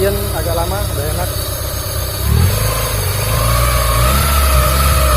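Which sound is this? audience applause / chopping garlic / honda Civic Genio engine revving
honda Civic Genio engine revving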